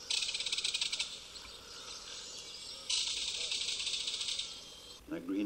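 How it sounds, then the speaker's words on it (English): A kingfisher's harsh, rapid rattling call in two long bursts, dry and loud, followed by a brief low voice at the end. "A kingfisher rattles as he makes off with his evening meal."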